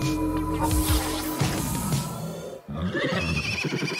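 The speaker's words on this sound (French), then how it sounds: "Regarde tous ces chevaux!" Horses whinny and neigh loudly in a cartoon-style scene, one drawn-out call dominating the first second or so, then further snorts and calls layered over a busy music-like background.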